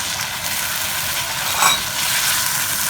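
Masala goat liver (kaleji) mixed with spiced yogurt is stirred in a hot pan, with a steady close sizzle and a brief scrape of the spoon.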